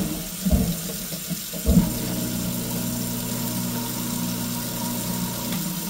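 A garbage disposal runs in a kitchen sink, starting with a couple of sharp knocks and then settling into a steady, loud grinding hum mixed with running water, with no talking.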